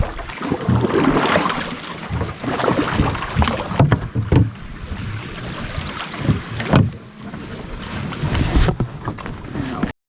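A canoe paddles through a flooded forest in Algonquin Park during ice-out, with close paddle strokes, splashes, hull knocks and wind noise on the microphone.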